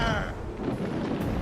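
Ship cannons fire in a naval battle in the video game Assassin's Creed Rogue, a dense rumbling boom that rolls on for the whole moment while a voice talks over it.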